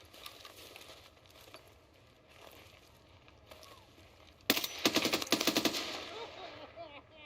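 Gunfire in Escape From Tarkov: scattered faint shots at first, then a sudden loud close burst of rapid automatic fire that rattles for about a second and a half before fading, with a voice faintly present.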